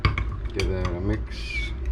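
Stirring large flake into a resin mix for poured soft-plastic shad fishing baits, light clinks and scraping against the container over about two seconds, with a voice speaking briefly over it.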